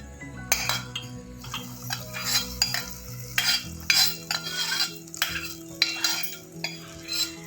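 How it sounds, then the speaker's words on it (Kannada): Ghee-fried raisins and cashews tipped into milk vermicelli kheer and stirred, with repeated spoon scrapes and clinks against the pot over a low hum, close and without speech. "ತುಪ್ಪದಲ್ಲಿ ದ್ರಾಕ್ಷಿ ಗೋಡಂಬಿ ಕೆಂಪಗಾಗಲಿ ಚೆನ್ನಾಗಾಗಿದೆಲ್ಲ ಈಗ ಪಾಯಸಕ್ಕೆ ಹಾಕ್ತೀನಿ"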